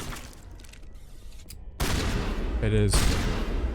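Gunfire in the video game Mass Effect: Legendary Edition, a loud burst of overlapping shots with a sharp onset partway through, following a quieter stretch of game ambience.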